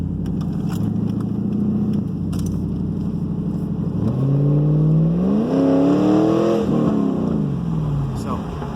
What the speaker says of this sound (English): So it sounds good, has a nice rumble to it.